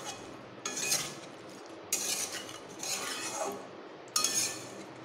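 Small river fish being mixed with salt in a pan, with a spoon scraping and clinking against the metal in four distinct bursts over a quiet background and no talk.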